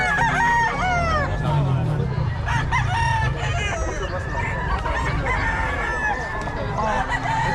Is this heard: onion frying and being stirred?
no